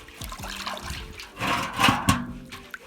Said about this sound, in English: it's advisable to stir a bit to make the salt dissolve.